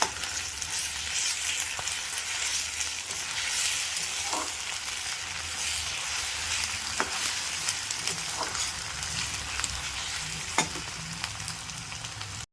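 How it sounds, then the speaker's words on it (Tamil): Ginger garlic paste, tomato and garlic sizzle in hot oil in a pan for a mutton keema dish, a steady broad frying hiss with a few faint scrapes of stirring throughout. "பூண்டு போட்டு வதக்கிடுங்க"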